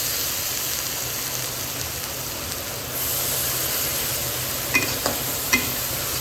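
Long beans drop into a pan of nasi goreng fried rice, setting off a loud, continuous sizzle and hiss that swells partway through, followed by a few sharp scraping clinks of a spatula stirring.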